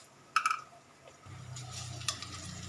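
Mushroom juliennes cooking in a pan for a mushroom methi matar malai dish, with a utensil clink and stir near the start, then a soft steady sizzle rising and continuing close by, with no talking.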